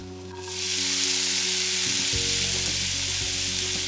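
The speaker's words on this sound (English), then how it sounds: "And it's starting to sizzle." Garlic sizzles and fries in a hot pan, a steady loud hiss that swells in after a quiet start and runs on without pause, with a faint low hum underneath and no talking.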